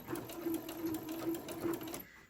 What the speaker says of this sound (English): back stitch, lift up your presser foot and drag it to leave an opening so you can turn your project.